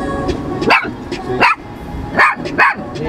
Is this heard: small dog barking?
yes